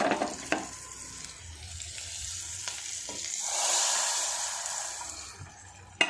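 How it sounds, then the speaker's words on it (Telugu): Hot tempering hits lemon dal with a bright, hissing sizzle that swells and slowly fades, joined by a few soft clinks of a spoon. "పోపు అయితే పప్పులోకి వేసేసామండి"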